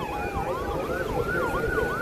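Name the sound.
ambulance siren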